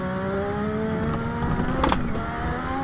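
Lotus 98T turbo Formula 1 car in Assetto Corsa, its engine holding a steady high-pitched drone with rising harmonics and a brief turbo whoosh near the end, loud and close throughout.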